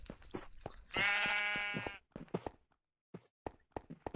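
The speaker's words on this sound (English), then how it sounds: "Now there's a second sheep." A Minecraft sheep gives a single clear, drawn-out bleat that lasts about a second, surrounded by soft game clicks and footstep taps.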